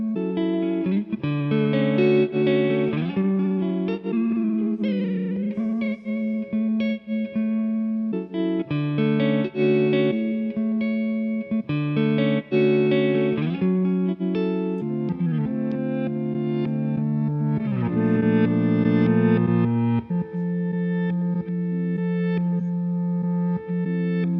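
An effected electric guitar loop plays continuously through a Chase Bliss Audio Blooper looper pedal, its phrases cut and repeated in choppy segments, sustained and fairly loud with no voices.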